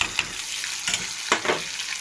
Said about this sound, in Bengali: দেখো চিংড়ি মাছগুলো লাল লাল ভাজা হয়ে গেছে।